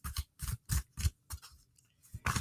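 Tarot cards are shuffled in quick bursts of crisp riffling and slapping, about eight short rhythmic rustles with brief pauses between them, close and moderately loud with no talk.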